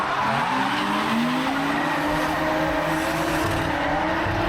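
A slightly modified Honda Civic Type R FK8 at Ebisu West circuit in Japan drives hard on track, engine roaring loudly and continuously with rising and falling pitch alongside tire squeal and skidding noise.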